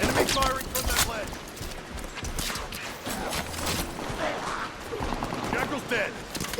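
Enemy gunfire in Halo 5: Guardians, a run of sharp shots and bursts scattered across the scene, some close and punchy, others lighter, mixed with metallic clatter and effects under talking voices.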